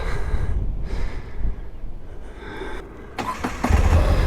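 A Moto Guzzi V85TT motorcycle engine cranks and fires up, a short starter whir followed by a rising idle rumble close by.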